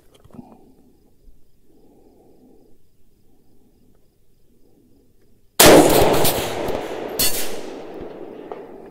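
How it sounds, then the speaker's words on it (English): A single loud rifle shot from a CMMG Resolute 300 chambered in 6mm ARC at an outdoor range cracks after quiet insect chirping, followed by a long rumbling echo and a second fainter report. "Let's do some more shooting."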